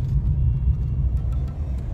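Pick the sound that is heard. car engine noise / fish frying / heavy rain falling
car engine noise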